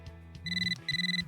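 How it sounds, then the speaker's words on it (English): A ringtone from a phone call in Dragon Ball Sparking Zero, two bright electronic trilling bursts, each lasting under half a second and separated by a brief gap, preceded by a couple of soft menu tones. "Videl gets a phone call."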